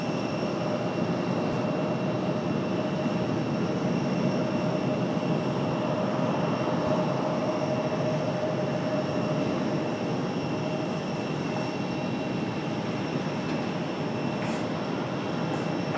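A Delta Boeing 737-800 jet at Raleigh-Durham International Airport gives a steady, broad engine roar that holds at an even loudness throughout, heard from a distance with no talk.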